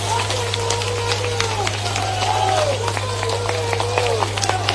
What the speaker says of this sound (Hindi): आज पहले तो तालियों की गड़गड़ाहट से हम अपने मुख्यमंत्री का स्वागत करें बदरवास में।